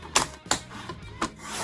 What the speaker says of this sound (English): I'm gonna just trim off this edge here too,